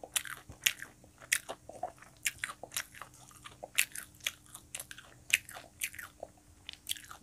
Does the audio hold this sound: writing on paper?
no